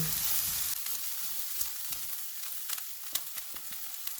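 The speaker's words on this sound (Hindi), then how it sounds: "ऑयल गर्म हो गया, इसमें एक प्याज डालेंगे।" Steady, hissing sizzle of onion frying in hot oil, with scattered small pops and crackles; no voices.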